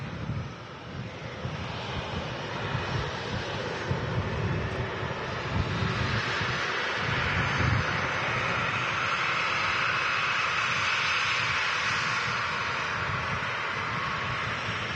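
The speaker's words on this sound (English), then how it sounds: "The aircraft slowing down to a stop." A fixed-wing aircraft rolls down the runway after landing at Manchester Airport, slowing to a stop. Steady, broad engine roar with wind rumble holds for about fifteen seconds at a fairly even level, with no voices.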